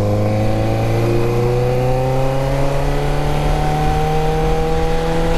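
Motorcycle engine revving hard and climbing through the gears, steady rising engine drone with upshifts, loud and close throughout with no talk.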